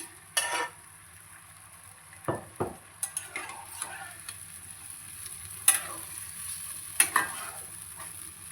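Boiled mutton joints get stirred into frying masala for joint biryani, with a faint steady sizzle broken by several clattering scrapes of a spoon against the pot, near and uneven, with no talking.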